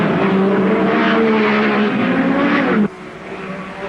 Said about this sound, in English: Berard's Ferrari heads Moss's Cooper. The battle is on